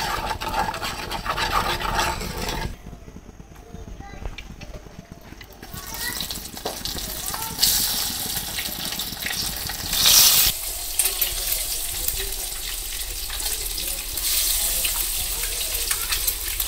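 Eggs frying in hot oil seasoned with salt and turmeric, a steady sizzle that swells and shifts as they hit the pan, with water-like hiss and clatter throughout.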